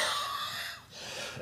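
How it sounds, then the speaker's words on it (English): A single rough cough from an adult man recovering after quitting smoking, close and fairly quiet, followed by a short breathy pause. "This fucking goddamn cough."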